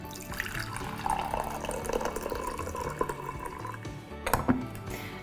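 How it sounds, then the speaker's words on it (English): Herbal tea pours from a French press into a mug, a steady trickling stream of liquid with small splashes and a few brief clinks near the end. "I'm just going to take this French press, press it down to filter it, and just pour it right into a mug."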